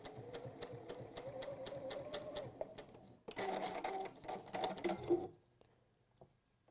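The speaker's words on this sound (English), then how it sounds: "What I will just do is have a little test and make sure that that is going to stitch happily." A sewing machine runs a short test stitch across a fabric seam, a fast even mechanical rattle that stops briefly, then a second run with some handling noise before it falls quiet.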